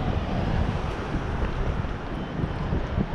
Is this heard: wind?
yes